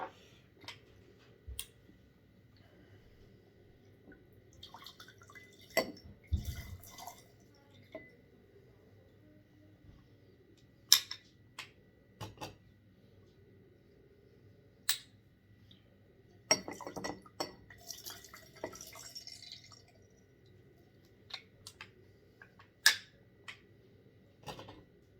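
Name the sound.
hand-squeezing fresh lemon and lime juice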